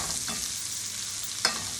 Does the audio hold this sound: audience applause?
no